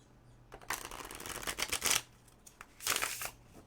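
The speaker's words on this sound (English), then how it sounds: "I'm going to riffle shuffle 3 times." Tarot cards riffle shuffled up close, a fast fluttering burst of crisp clicks, a short pause, then another quicker riffle.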